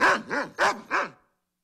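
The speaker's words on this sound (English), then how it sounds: "Ladybird, Ladybird, stop barking." Four quick, loud barks from a dog, close by and in an even rhythm, with silence after the last one.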